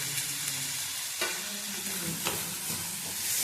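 Prawns soaked beforehand are tipped into a pan of dry masala and sizzle loudly as a spoon stirs them, with a couple of sharp scrapes against the pan. There is no talking.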